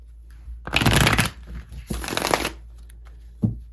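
Two bursts of tarot cards being shuffled, a crisp riffling flutter each time, close and fairly loud, with a short quieter tap at the end.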